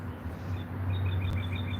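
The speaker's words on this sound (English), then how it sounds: "the birds are fighting." Birds squabble with a run of short, repeated chirps and tweets, faint and somewhat distant over a low background hum.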